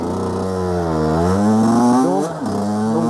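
A loud motorcycle engine runs close by with a raspy, buzzing tone, its revs climbing smoothly and then dipping briefly before settling again.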